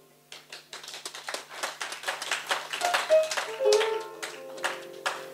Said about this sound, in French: On applaudit pour le doyen.